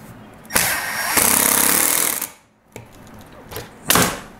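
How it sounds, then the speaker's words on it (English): A power drill drives screws into a kitchen cabinet face frame, with a loud close whirring burst, a pause, then shorter spurts of whine and clicking. "When you hear that, you know it's time to stop drilling."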